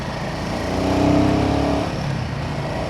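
Road traffic on a city route, with cars and motorcycles passing close by in a steady rumble that swells and fades as vehicles go past.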